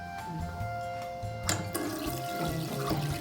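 Water runs steadily from a tap in a clean public toilet at a park in Japan, a continuous close splash with a brief louder gush midway and no talking.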